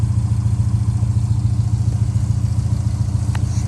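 A Subaru car running on its newly installed engine, a steady close idle with an even low rhythmic throb and faint clatter, loud and continuous without talk.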